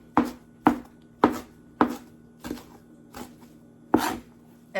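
Knife chopping finely through leafy greens on a cutting board, seven distinct crisp chops in a slow, steady rhythm, close and fairly quiet, with no talking.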